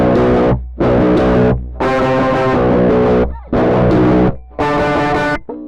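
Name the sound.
electric guitar through distortion effect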